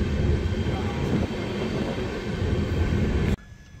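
A passenger train on the journey from Tirupati to Chikkamagaluru rumbles loudly and steadily on the rails, the heavy low rolling noise cutting off abruptly near the end as it comes to a stop.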